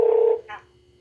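A portable Bluetooth stereo radio plays an incoming call alert: one short loud electronic phone tone, then a brief fainter burst, ending in near silence.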